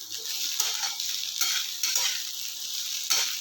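Potatoes sizzling in hot oil in a pan, a steady close hiss broken by several louder pulses where the pieces are stirred.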